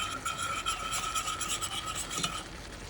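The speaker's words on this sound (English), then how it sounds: "Some chili powder, garlic powder. Just stir fry." Spices with chili powder and garlic powder are stir-fried in a pan, a continuous soft scraping and rubbing of the utensil over a light sizzle, quiet and steady with no talking.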